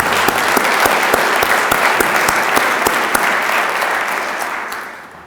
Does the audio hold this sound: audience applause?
yes